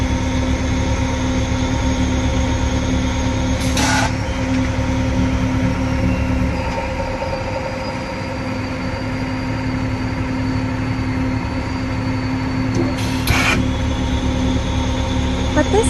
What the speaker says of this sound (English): Each mold picks up the pulp, forms the tray, and transfers it to the conveyor.